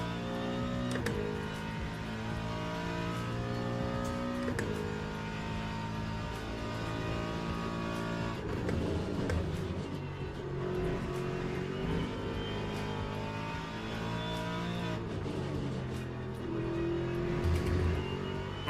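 Race car engine in the sim racing game Le Mans Ultimate, a sustained loud harmonic drone that repeatedly climbs in pitch through gear changes, with brief drops and a roughened stretch partway through.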